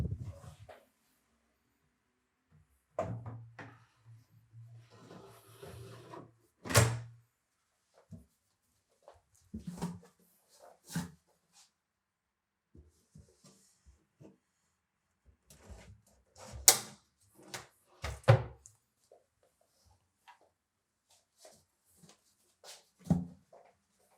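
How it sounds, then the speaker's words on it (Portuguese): Wooden drawers slid and knocked into place in a newly assembled dressing table, giving scattered clunks, scrapes and taps across quiet stretches, with one sustained low hum in the middle. "é só colocar as gavetas no lugar"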